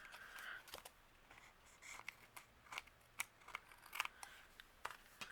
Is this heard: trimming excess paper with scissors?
yes